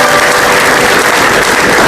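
Studio audience applause in a TV comedy show, a dense, loud, continuous wash of clapping lasting under two seconds.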